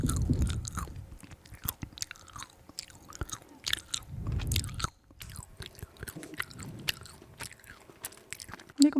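Frozen kohakuto jelly bitten and chewed close to the mic, crisp crunchy bites in bursts followed by softer wet chewing, quiet between bites.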